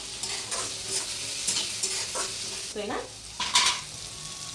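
Tomatoes go into sizzling, browned onions in a frying pan for Satara-style sukat (dried fish) curry, bringing steady close frying hiss with several stirring scrapes and clinks of a spoon against the pan, plus a brief spoken reply.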